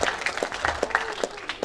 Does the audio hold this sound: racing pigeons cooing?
no